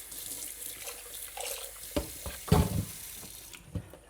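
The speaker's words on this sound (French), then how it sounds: "je vais rincer même le blender" Running kitchen tap rinsing out a blender, close splashing water with clunks and knocks of the container against the sink, no talking.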